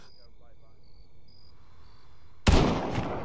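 In Arma 3, a loud burst of gunfire erupts abruptly after a quiet stretch of faint insect chirps, the shots cracking sharply up close and ringing out briefly.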